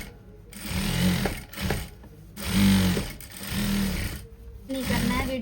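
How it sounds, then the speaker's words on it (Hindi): A sewing machine runs a lapki stitch along the belt of a farshi salwar, whirring loudly and close in several short bursts separated by brief pauses. "इसलिए हम ये लपकी सिलाई लगाते हैं बेल्ट पर।"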